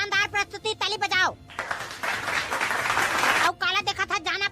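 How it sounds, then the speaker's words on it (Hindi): A short burst of applause from a crowd, dense clapping lasting about two seconds between stretches of talking in a Chhattisgarhi cartoon comedy program. "ताली बजाओ।"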